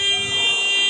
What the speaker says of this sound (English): Oh, there's that buzzer.